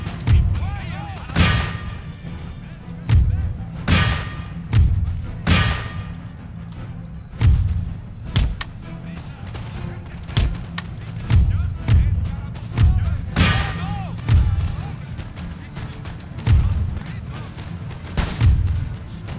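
Gunfire in an Empire: Total War battle fighting as Spain booms out as a series of heavy, thudding musket volleys and shots at an irregular rhythm, loud and close, with a player talking between them.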